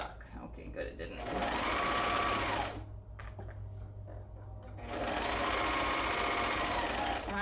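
A serger sewing machine stitches a shirt seam in two loud, steady bursts of whirring motor hum, separated by a quieter pause, with a person talking throughout.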